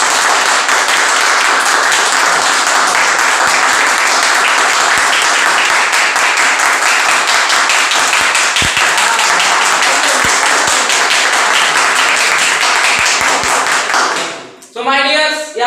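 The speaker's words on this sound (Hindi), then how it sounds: "तो एक बार जोरदार तालियां खुद की।" Loud, dense applause from a seminar audience at a public speaking training session, continuous clapping for around fourteen seconds up close, then stopping as a voice begins speaking.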